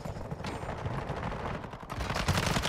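Gunfire in Warzone 2 rattles in dense rapid bursts, a steady crackle of shots that grows louder and closer toward the end.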